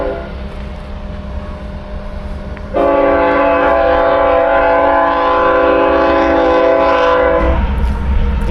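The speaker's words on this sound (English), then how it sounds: "noisy train in the background" Noisy train passing near the border wall at Sunland Park, its horn blaring in long, loud sustained blasts that start abruptly and hold over a steady rumble of the rail cars.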